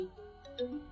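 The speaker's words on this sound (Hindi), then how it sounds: "फादी मेरा फोन उठाओ बेटा, फोन उठा लो" A mobile phone rings with an incoming call, its ringtone a soft, steady electronic melody of rising tones, moderately quiet and heard alone without talk.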